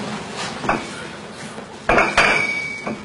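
Gold bars knock against one another with bright, ringing metallic clinks, a handful of sharp taps scattered over a few seconds, close and clear with a glassy, crystal-like chime.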